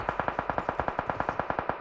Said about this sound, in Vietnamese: đây chắc chắn là tiếng súng của mấy thanh niên sấy mình rồi